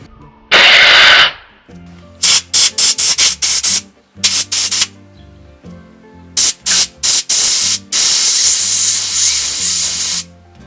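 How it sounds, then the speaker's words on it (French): Compressed air from a compressor nozzle blasting through a Citroën C5 diesel injector being cleaned with diesel fuel, loud close hissing bursts, some short and rapid, others held for a second or more. "On met la bouche de son compresseur."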